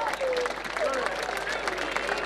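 Audience applause at the Fiesta Nacional del Chamamé 2018 for a bass player, a steady wash of clapping with crowd noise and whistles running through the whole span.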